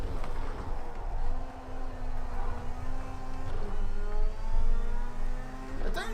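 A rallycross RX Lites car in Project CARS 2 at Lydden Hill drops to second gear with a loud engine, its pitch falling and then climbing again as the car drives out of a corner.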